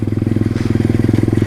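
A pit bike engine putters close and loud in a fast, even pulsing rhythm as the bike is ridden, on its own with no talking.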